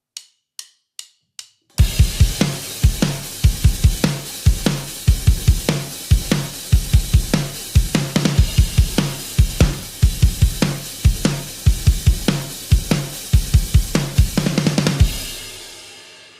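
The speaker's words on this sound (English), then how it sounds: "It's going to be hi-hat, kick, and snare." After four stick clicks count in, a drum kit drives a fast, dense groove on hi-hat, kick and snare with tight repeated hits. It is close and loud throughout and ends on a crash that rings out and decays.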